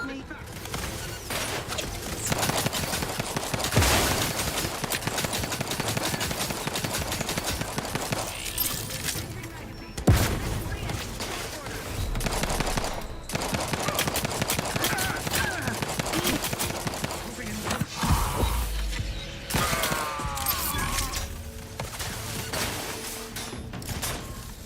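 Repeated gunfire from the video game The Outer Worlds 2, with rapid shots in bursts across the whole stretch and a few short gaps, heard under a person talking.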